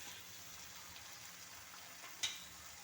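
Chicken kurma with coconut milk simmers in a pan, giving a faint, steady bubbling hiss throughout, with one brief utensil tap near the end as it is stirred.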